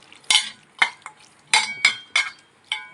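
Marinated mutton is pressed and kneaded with spices by hand, giving about seven close, wet squelching bursts in an uneven rhythm, with no talking.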